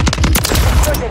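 A rapid burst of automatic gunfire in a Call of Duty team deathmatch, loud and close, with several quick successive shots in just over a second.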